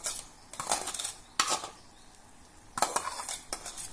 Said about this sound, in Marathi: पाण्याला उकळी आली की धुतलेला भगर घालूया